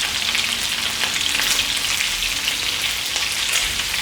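Beef and lamb fry in a pan with a curry spice mix, giving a steady, dense sizzle up close with no voices.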